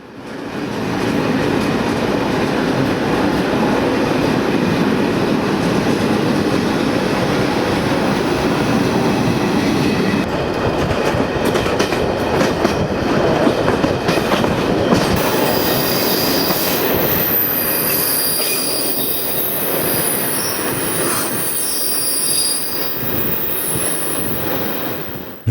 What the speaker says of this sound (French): Nous attendons le croisement du train Ploče-Zagreb, le même que le nôtre, mais dans l'autre sens.